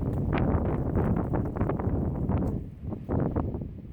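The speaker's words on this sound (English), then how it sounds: "The wind is really bad today" Strong gusts buffet the microphone outdoors at a horse farm, a loud low rumbling roar that runs almost continuously, dipping briefly before surging back.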